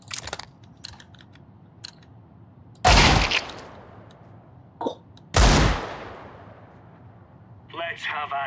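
Gunfire in Counter-Strike: two loud, sharp shots with long rolling tails a few seconds apart, among smaller clicks and thuds, with a player's voice briefly at the end.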